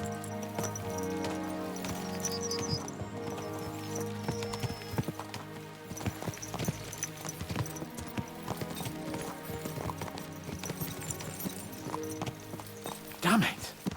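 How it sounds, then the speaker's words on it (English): Horses gallop with steady, rhythmic clip-clopping hooves in the video game Kingdom Come Deliverance 2, heard throughout alongside a musical backdrop, with a brief whinny near the end. "Let's really spur these horses on, eh?"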